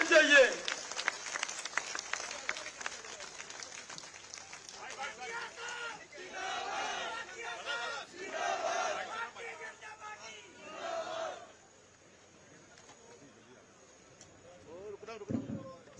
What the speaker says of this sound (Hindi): तालियां बजती रहनी चाहिए